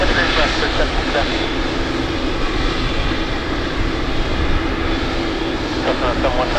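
A Silk Way West Boeing 777F freighter jet takes off from runway 16 right at Paine Field, a steady loud broadband engine roar filling the whole stretch, with radio chatter faintly heard underneath.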